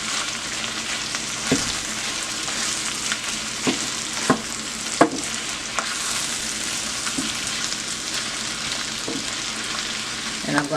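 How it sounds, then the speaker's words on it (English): Corned beef frying in oil in a pan for Liberian corned beef gravy: a steady, dense sizzle runs throughout, broken by occasional sharp taps of a utensil against the pan, with no voices. "And I'm going to let this fry"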